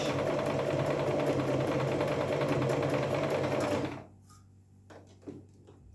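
A Singer Promise 1412 sewing machine runs a fast, steady zigzag stitch, its rapid mechanical whirring and ticking close and continuous for about four seconds before stopping, followed by a few faint clicks.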